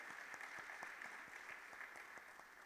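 Steady applause from an audience, a dense wash of clapping that holds at an even level for a few seconds with no talking over it.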